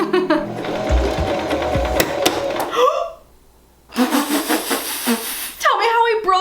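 A sewing machine stitches fabric for a homemade copy of Lisa's BLACKPINK 'Ice Cream' outfit, running in loud, steady bursts with a short pause in the middle, while a voice talks over it.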